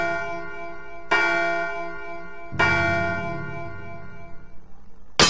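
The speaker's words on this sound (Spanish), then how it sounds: "Campanadas." Church bells in the PS1 game Silent Hill toll twice with loud, ringing strikes that hang and fade, followed by a sharp clang at the end; no one speaks.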